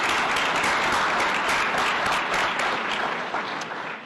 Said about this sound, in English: Why don't we give some applause?